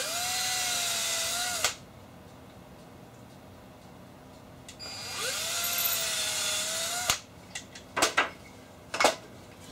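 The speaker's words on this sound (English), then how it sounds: "You can just start drilling a little bit." Power drill boring holes into an IKEA motorized bed base, a steady whining spin for a couple of seconds, a pause, another longer burst, then a few short sharp bursts, close and alone.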